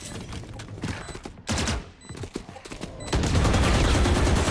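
Gunfire in the video game Valorant during a competitive match, with bursts of shots and impacts, a short pause, then sustained loud rapid firing toward the end.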